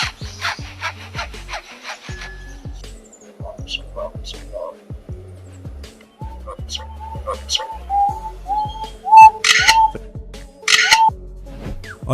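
A lyrebird imitates a saw cutting wood, giving a rhythmic series of rasping back-and-forth strokes mixed with clicks and whistled notes, fairly close and loud, with no other voices present.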